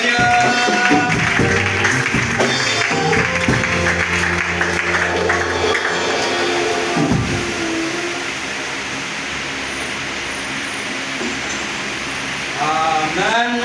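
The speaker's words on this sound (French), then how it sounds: "Acclamons très fort le Seigneur." A church congregation at a Dakar gospel service claps loudly and steadily in praise, a dense wash of applause that fades a little and then goes on under the noise of the hall.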